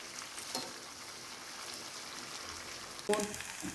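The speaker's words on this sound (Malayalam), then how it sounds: "എല്ലാം മറിച്ചിട്ട് ഒന്നുകൂടി ഒരു 2-3 മിനിറ്റ് കൂടി ഒന്ന് വേവിച്ചാൽ മതി." Pomfret fish frying in a pan, giving a steady close sizzle throughout with a brief louder clatter of a utensil near the end and no talking.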